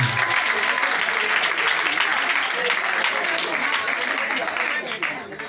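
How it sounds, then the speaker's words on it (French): A large audience at a Christian gathering applauds steadily, a dense wash of clapping and crowd noise that holds throughout and tapers slightly at the very end. "On peut acclamer Jésus pour sa vie."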